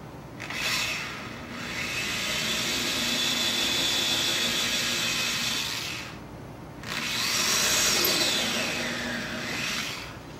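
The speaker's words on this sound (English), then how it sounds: "We want to drill a couple holes." A power drill whirs steadily into wood in two long runs with a brief pause between, close and continuous, with no voices.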